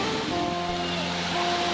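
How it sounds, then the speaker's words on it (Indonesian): Gentle, low-sloping waterfall at Air Terjun 1 Kerta Bumi, giving a steady rushing wash of water that stays constant and moderately loud over a short stretch, with no voices. "untuk air terjunnya ini dia tidak seperti air terjun yang tinggi gitu"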